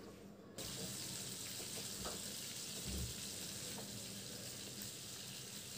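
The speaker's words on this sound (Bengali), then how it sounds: "আমি যেহেতু একই সাথে দুইটা মাছ ভাজবো তাই সাইড করে রেখে আর একটা মাছও দিয়ে দিলাম" Masala-marinated fish frying in oil in a pan, two pieces side by side: a steady, dense sizzle runs continuously at moderate level from a close position, with a few faint clinks.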